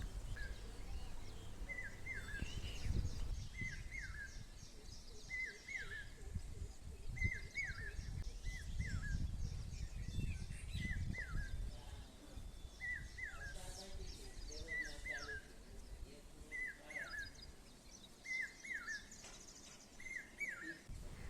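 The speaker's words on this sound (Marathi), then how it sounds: "तुम्ही या पक्षाचा अगदी गोड असा आवाज ऐकू शकतात" A cuckoo repeats a short, bright two-note call at regular intervals, moderately distant, over low rumbling background noise and faint chirps.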